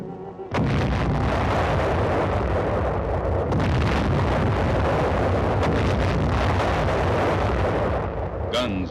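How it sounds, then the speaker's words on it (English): Naval gunfire from a 262-ship United Nations armada bombarding Wolmido island at point-blank range, a dense, continuous roar of heavy blasts and rumbling explosions, loud and sustained after a sudden start. "Guns of the 262-ship United Nations Armada began their point-blank preliminary bombardment."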